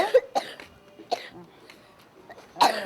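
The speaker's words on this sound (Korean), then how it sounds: "기침했었어." A child coughs in several sharp, separate bursts spread across a few seconds, close to the microphone, with a final louder cough at the end and only quiet background between.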